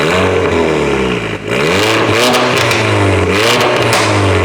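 A Mercedes GT63s engine revs hard and loud, rising and falling in deep growling bursts with a brief dip before climbing again.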